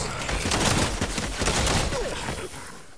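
Rapid Fortnite gunfire: dense, loud bursts of overlapping shots rattle continuously at close range, thinning slightly toward the end, with no talk over it.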